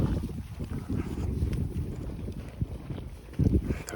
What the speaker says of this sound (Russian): Душа радуется, когда лошади вот так ходят, без пут